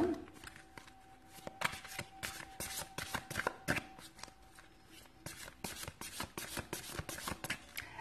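Tarot cards are shuffled by hand in a steady run of quick riffling and flapping bursts, close and fairly soft, continuing throughout with no talk.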